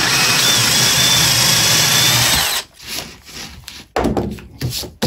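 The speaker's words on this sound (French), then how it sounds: "on va venir percer jusqu'à la butée." A power drill bores into wood down to the depth stop while a pocket-screw jig is in use, loud and steady for over two seconds, then cutting off into intermittent rubbing and short bursts.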